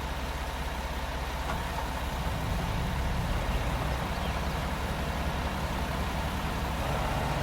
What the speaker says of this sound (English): I'll leave the engine running